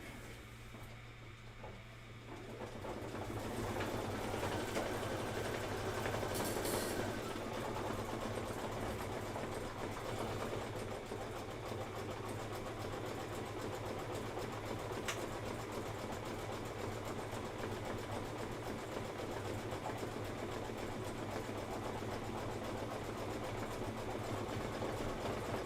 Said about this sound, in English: And this is 2 minutes of stitching, and then we're done with this